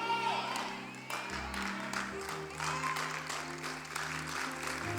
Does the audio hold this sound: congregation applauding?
yes